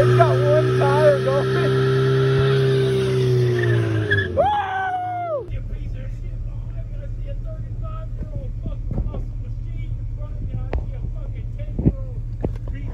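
A truck with one tire spinning gives a loud, rising skidding whine that climbs, then cuts off abruptly. A low engine rumble and scattered clunks follow, with voices in the background.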